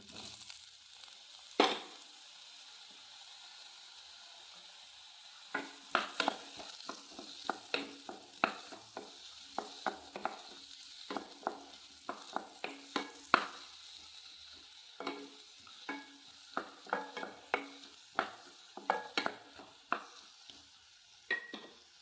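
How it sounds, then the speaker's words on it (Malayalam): Chopped ripe nendran plantain frying in a pan for kaipola, a soft steady sizzle under repeated scraping and stirring taps of a spoon against the pan, fairly quiet and without voices. "ഇനി നമ്മൾ അരിഞ്ഞു വെച്ച നേന്ത്രപ്പഴം ഇട്ട് കൊടുക്കാം."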